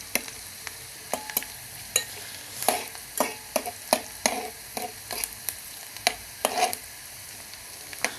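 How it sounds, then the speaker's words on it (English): Onions sautéing in oil until golden brown for an Indomie noodle and potato dish, heard as a soft continuous sizzle with repeated clinks and scrapes of stirring spaced through the clip. "saute until they turn golden brown"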